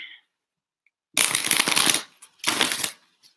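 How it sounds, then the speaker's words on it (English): Tarot-style cards are riffled and shuffled up close during a live card reading, two crisp bursts of shuffling separated by a brief pause, with a few small card taps afterward and no talking. "let me get you other cards."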